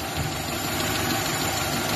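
A Mitsubishi Galant engine idles after a top overhaul for a smoky exhaust problem, a steady close mechanical hum and rattle with an even, unbroken tone and no speech.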